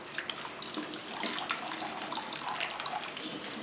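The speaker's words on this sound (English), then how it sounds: "pour a little water," Water poured onto dry soil for a mudbrick workshop, a steady close splashing and trickling wash running throughout with small drip-like spatters and no talking.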